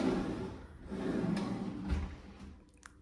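A brand new kitchen drawer slides open with a low, smooth rumble, ending in a soft knock, close by in a quiet renovated kitchen.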